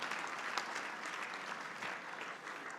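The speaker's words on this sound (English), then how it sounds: "We should give an extra special round of applause to Kathy" An audience at a civic gathering led by a mayor applauds, giving a faint, steady wash of many hands clapping without pause.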